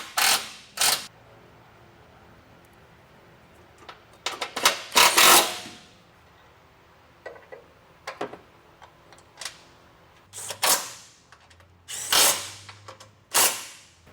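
A ratchet with a 12mm socket tightens a frame bolt while rock sliders go onto a 3rd gen Toyota Tundra, giving repeated short bursts of close clicking separated by quiet pauses.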